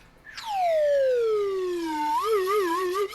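A slide whistle sweeps quickly up to a high pitch, holds, glides slowly down, then ends with a wobbling vibrato flutter, played alone and close.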